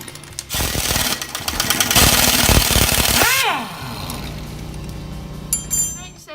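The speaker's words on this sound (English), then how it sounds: "now we're going to remove the shock bolts with a 18mm socket and a 15mm" Socket and wrench loosening shock bolts on a Jeep Wrangler TJ, heard as a burst of rapid, loud ratcheting clicks and metallic clatter followed by quieter tool taps, with brief speech-like sounds toward the end.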